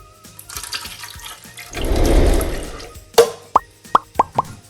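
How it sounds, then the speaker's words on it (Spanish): Evaporated milk from a can pours into a blender for a flan napolitano mixture, a soft gushing swell followed by several quick, close plopping drips as the can empties. "Después de poner los huevos, vamos a poner la lata de la leche evaporada."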